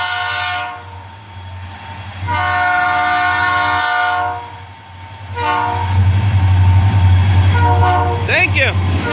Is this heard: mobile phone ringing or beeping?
no